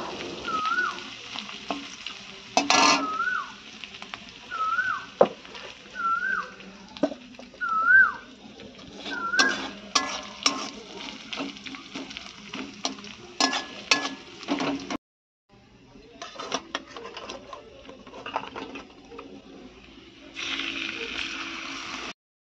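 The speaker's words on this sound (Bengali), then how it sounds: "তো পেঁয়াজগুলো একটু লাল লাল করে ভেজে নেব।" Onions fry in a pan for a Bengali home-cooked lunch, a low crackling sizzle punctuated by sharp spatula scrapes and clinks, with a few whistle-like chirps and a brief drop to quiet before the sizzle resumes.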